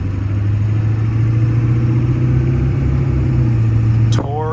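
Cold-started 1996 Ford F250 XLT PowerStroke diesel idles with a loud, steady, close-up clatter and low rumble. The sound cuts off abruptly near the end.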